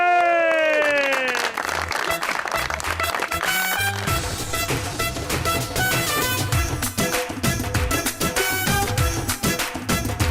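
A studio audience on a talk show applauds a guest's entrance, the clapping blended under loud, rhythmic entrance music throughout.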